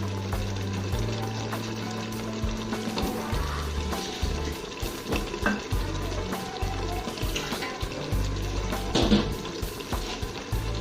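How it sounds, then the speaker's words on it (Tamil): Mutton biryani masala with lemon fries in a pan, a steady close sizzle and crackle running throughout with occasional stirring scrapes and no talk. "இந்த மசாலா பச்சை வாசனை போகிற வரைக்கும் நல்லா வதங்கட்டும்"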